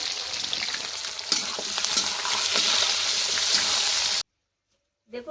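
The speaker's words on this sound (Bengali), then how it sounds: "পেঁয়াজ, টমেটো, কাঁচা লঙ্কাটা একটু ভালো করে ভেজে নেব।" Onion, tomato and green chilli frying in a pan for mutton kosha, a loud close sizzle with steady stirring and scraping for about four seconds, then an abrupt cut to silence before a brief return of sound.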